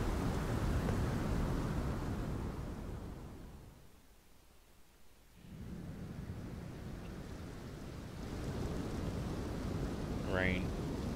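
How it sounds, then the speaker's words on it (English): Steady rain hiss from the Elden Ring video game, a dense broadband wash that dips briefly to near quiet midway and then returns, with a rising tonal chirp near the end. "Rain."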